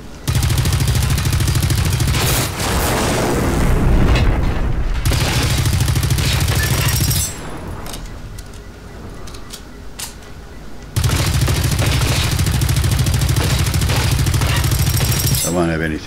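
Automatic gunfire from the video game Generation Zero rattles in long, loud, rapid bursts, broken by a quieter stretch in the middle, with a voice talking over the action.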